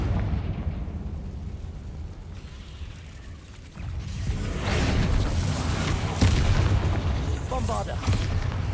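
The Confringo fire spell explodes in Hogwarts Legacy: a deep booming blast swells midway over low rumbling combat noise, followed by crackling bursts, with a voice talking throughout.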